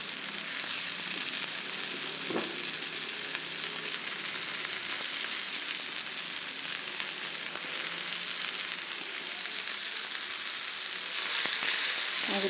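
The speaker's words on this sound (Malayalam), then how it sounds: "നമുക്കിനി ഇതിലേക്ക് നനച്ച് വെച്ചിരിക്കുന്ന അവൽ ചേർക്കാം." Soaked flattened rice (aval) tipped into a hot frying pan with softened tomatoes for aval uppumavu, giving a steady, close sizzle with scraping stirs throughout, louder near the end.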